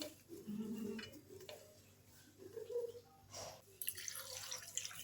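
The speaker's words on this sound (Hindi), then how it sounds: "चिकन शामिल करके मैंने इसमें थोड़ा पानी शामिल कर दिया" Water poured into a cooking pot of chicken in a home kitchen, with faint splashes and drips, light clatter of the pot and utensils, and quiet background noise.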